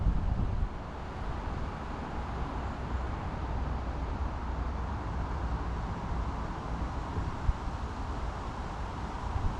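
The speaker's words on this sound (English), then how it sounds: "Could get tricky today, it's quite gusty." Gusty wind buffets an outdoor spot at a fishing lake, a steady broadband roar with rumbling microphone buffeting throughout, close and loud, with no talking.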